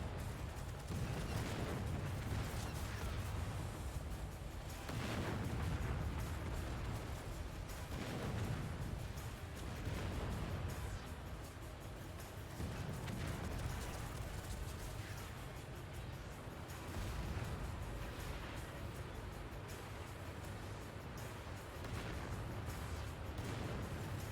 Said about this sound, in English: that artillery's peppering away at him